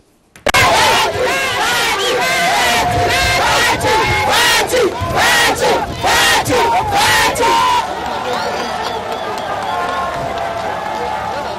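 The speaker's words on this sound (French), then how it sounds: "Félix Tshisekedi a été ovationné, oui, ovationné, par une foule" A large crowd at a presidential election rally for Félix Tshisekedi in the Democratic Republic of Congo roars and cheers in loud surging bursts, then settles into a steadier, slightly quieter clamour of voices.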